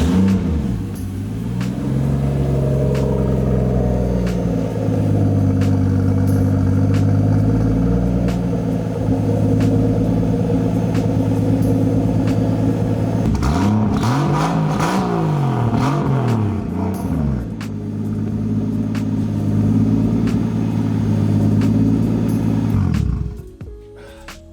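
An RB25 engine in a Nissan 280Z runs after a cold start, a steady loud droning idle that briefly rises and warbles in a short rev midway before settling back, cutting out near the end.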